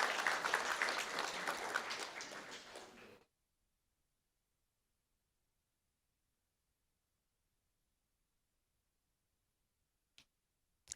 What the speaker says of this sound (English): Let's give them a round of applause for supporting their child's creativity.